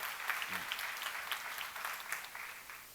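Quiet applause from a seminar audience in a church lecture setting, light uneven clapping heard from a distance that fades out toward the end.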